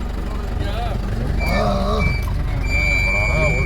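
A large vehicle reversing on an off-road route near a waterfall, its steady beeping tones repeating beneath a continuous low engine rumble while people talk nearby.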